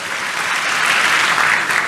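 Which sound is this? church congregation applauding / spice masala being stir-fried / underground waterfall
church congregation applauding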